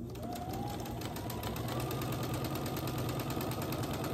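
Sewing machine running steadily while chain piecing quilt squares, a continuous close mechanical whir with rapid stitching rhythm throughout.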